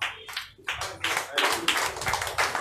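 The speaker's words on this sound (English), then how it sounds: "Give me a round of applause" Crowd applause at an outdoor revolutionary march rally in Ajegunle, broad noisy bursts of clapping and cheering swelling and continuing over a few seconds, with voices mixed in.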